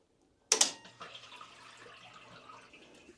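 Water bursts into household pipes in an American basement after the supply is switched back on, a sudden loud gush with clanking at first that settles into a steady hiss and rush.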